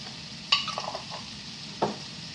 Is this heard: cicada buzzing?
no